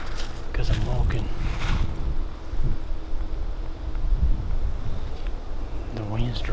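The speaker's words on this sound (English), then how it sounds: "The wind's directly at my back" Steady outdoor wind gusting and buffeting the microphone while walking a property boundary with the wind directly behind, a continuous rushing roar with brief voices and low thumps from footsteps.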